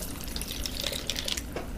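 Water trickles steadily through a filter into a bowl under gravity, a continuous soft splashing flow with a few brighter drip-like spikes, close and fairly quiet with no talking.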